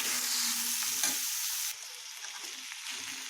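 Chopped ridge gourd being stirred into frying masala for aloo turai sabzi, a loud close hiss and sizzle that drops a little midway, with occasional soft spoon scrapes.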